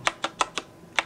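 Typing on a mechanical keyboard with Cherry MX Brown switches and a mix of lavender, red and zinc metal keycaps, five or six crisp close keystrokes in a quick, slightly uneven rhythm with no talk.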